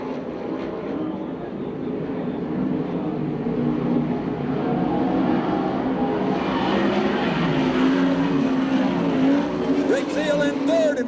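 USAC/CRA sprint cars race at Phoenix, loud engines roaring and droning as they circle the track, with pitch rising and falling as cars pass. An announcer talks over the engine noise throughout.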